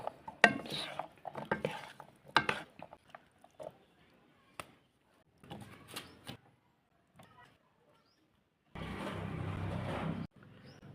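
Chana chaat with lemongrass and chaat masala stirred in a bowl, a run of soft scraping clinks and taps in short bursts, then a louder rustling stretch near the end; no talking.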